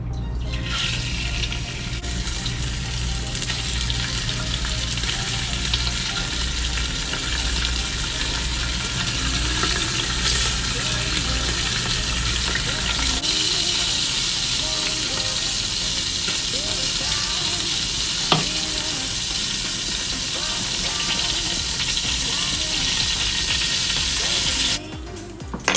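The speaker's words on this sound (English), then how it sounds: "gonna put your meat in, always lay the meat away from you so it doesn't splash back and get you." Meat browning in a hot pan for a keto curry gives a continuous loud sizzle and crackle that stays dense and steady throughout, close up, with no clear talk over it.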